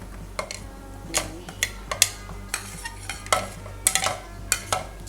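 Pork and onions being stirred in a sizzling pan for Ilocano-style estofadong baboy, with repeated sharp scrapes and clinks of a utensil against the pan over a steady low frying hiss, close and moderately loud.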